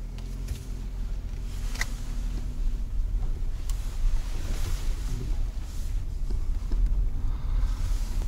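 Steady low interior road noise inside a Lexus LS 430 or Lexus RX as it pulls away, a constant rumble and airy hiss with no distinct events.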